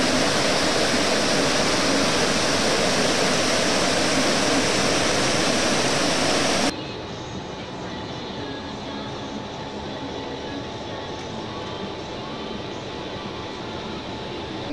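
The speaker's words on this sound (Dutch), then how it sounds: "Altijd kabbeling van dat water hier vooraan." Water ripples and churns steadily in an open basin at a water production plant, a dense continuous rush that drops abruptly to a softer, steady flow halfway through, with no voices.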